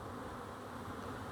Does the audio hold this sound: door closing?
no